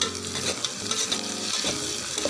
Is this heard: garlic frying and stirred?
yes